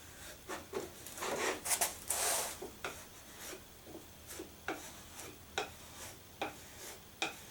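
Putty knife pushing wood filler into holes on a wooden shelf, a series of short scraping and tapping strokes with a denser rubbing burst near the start, close and fairly quiet, with no talking.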